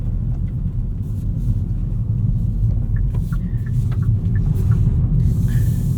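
A 2019 Hyundai Elantra GT N Line driving on the road at sunrise, with deep continuous engine and road rumble heard from inside the cabin, steady and fairly loud, no talk.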